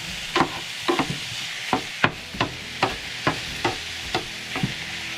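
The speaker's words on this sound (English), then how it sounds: "I'm cooking with high heat. And I'm going to brown it." Food browning in a pan over high heat, heard as a steady sizzle broken by about eleven evenly spaced scraping stirs of a utensil against the pan, close and fairly quiet, with no talking.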